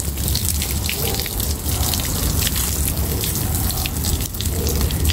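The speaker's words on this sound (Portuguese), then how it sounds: "E aquele cano lá, aquela água desce lá embaixo na raiz dele." Water pours from a pipe onto the roots of saffron plants during a harvest, a steady gushing, splashing flow with trickling and dripping layered in, continuous and close.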